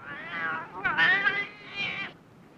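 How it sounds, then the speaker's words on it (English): A cat gives a few drawn-out, close meows, with the middle one louder and more insistent, and short gaps between them. "If I could sweet talk that cat out of his supper"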